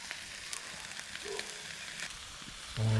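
Steak pinwheels sizzle on the cooking grates of a Firebox stove outdoors, a faint, steady crackle with a few light scrapes before a brief louder tone at the end.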